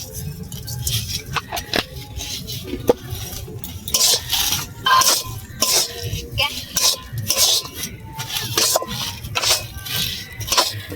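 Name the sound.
stirring spiced mango chop mixture in a pan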